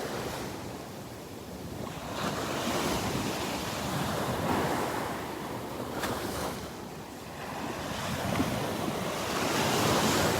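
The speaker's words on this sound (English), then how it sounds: "Just love taking a minute and listening to the waves." Ocean surf rolls steadily onto Vanderbilt Beach, a continuous wash of breaking waves with some wind buffeting the microphone.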